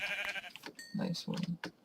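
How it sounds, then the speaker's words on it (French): Sheep bleating in a video game, a couple of short bleats in the second half following a stretch of other game sound with a voice over it. "Un mouton."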